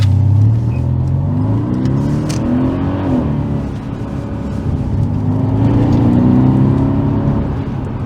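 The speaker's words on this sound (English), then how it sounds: "Downshift with the rev match" A Mercedes C63 AMG W205 V8 with a Eurocharge tune blips its revs on a rev-matched downshift, rising and falling in loud sweeping surges. The engine note stays close and continuous throughout, and no one talks over it.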